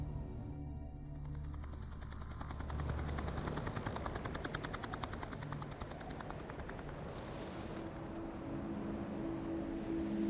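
Distant rescue helicopter rotors thump in a steady rapid beat under a broad wash of engine noise, continuous and fairly faint throughout.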